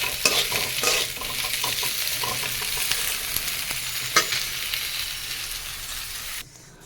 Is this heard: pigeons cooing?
no